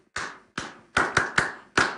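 Six separate hand claps in an uneven rhythm, crisp and close, each with a short room decay, the middle ones coming in a quick run, nobody speaking.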